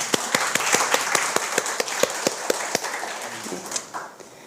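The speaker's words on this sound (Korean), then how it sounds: "예, 우리도 박수 한번 칠까요?" A church congregation applauds in a steady, evenly paced rhythm of distinct claps that fades slightly toward the end.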